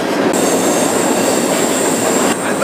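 A freight train rolls through wild, deciduous Appalachian woods with a loud, continuous rumble and rattle of wagons, plus a sustained high wheel squeal close by.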